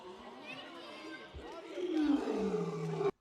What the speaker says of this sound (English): Let's see what the tiger sounds like.